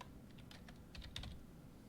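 A computer keyboard is tapped in a quiet room while logging into a program, giving a short, faint series of soft keystrokes with small gaps between them.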